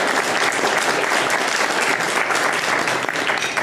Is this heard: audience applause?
yes